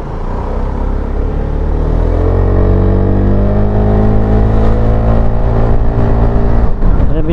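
A QJMOTOR FORT350 Euro5 motorcycle accelerates hard on a test ride, its engine note rising steadily in pitch as it pulls through the revs, loud and close, then briefly breaking near the end.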